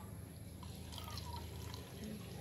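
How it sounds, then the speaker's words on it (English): Cold water poured into a metal can for a home calorimetry experiment, a soft steady trickle and drip heard up close and fairly faint. "Now what we have to do is pour the cold water into the can"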